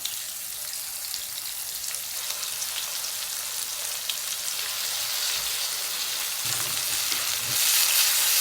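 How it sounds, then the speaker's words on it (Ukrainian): Steady, close sizzling and crackling of pork liver frying in a hot pan over medium heat, a continuous hiss with small pops, no voices. "і смажу так на середньому вогні."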